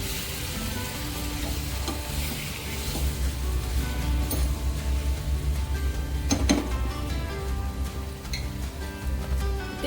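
Onions sizzle and crackle steadily in a pan for Kadai paneer, with a spatula scraping and stirring through the fry at close range, and one louder clatter midway.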